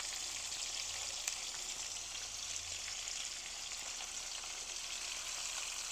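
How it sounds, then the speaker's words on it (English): Shrimp frying in a skillet still coated with sausage drippings, giving a steady, even sizzle that stays close and constant throughout, with no talking over it. "Just add the shrimp in the same skillet that I had the sausage in."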